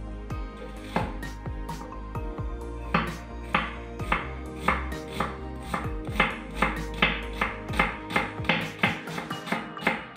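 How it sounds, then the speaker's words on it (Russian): A knife chops steadily through a large onion, slicing it into half-rings on a cutting board, the sharp cuts coming faster and louder toward the end. "Взять одну крупную головку репчатого лука и нарезать его полукольцами."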